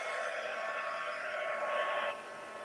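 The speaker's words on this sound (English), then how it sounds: "just going to hit it with the heat tool, so excuse the noise." An embossing heat tool blows steadily during papercraft stamping, a continuous broadband hairdryer-like whoosh that holds for about two seconds at moderate loudness before abruptly dropping to a softer airflow.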